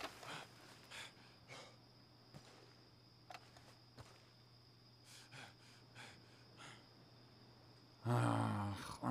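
Horse in the video game Red Dead Redemption 2 snorts and breathes softly, faint and close, over a quiet ambient hum, followed by a louder burst at the end.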